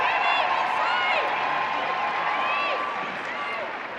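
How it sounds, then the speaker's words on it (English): Stadium crowd at a women's Northern Super League football match, Calgary Wild FC at Vancouver Rise FC, cheering and applauding in a steady roar with whistles and shouts, under a commentator's voice. "Big cheer for Tumeth as she's going to go down the tunnel."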